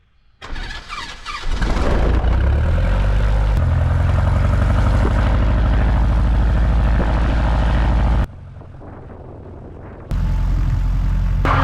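Ercoupe light aircraft departing runway 16 at Seeley Lake, its propeller engine roaring up to a loud, steady full-power drone, then briefly dropping lower before swelling again.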